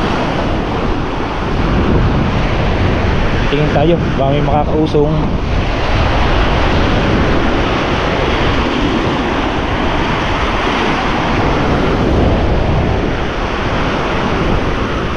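Strong storm wind roars with crashing sea waves in a constant loud wash near a fishing boat during a typhoon, and someone speaks briefly partway through.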